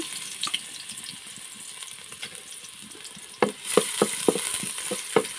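Spice paste frying in oil in a cooking pot, a steady soft sizzle with a run of sharp stirring scrapes near the end.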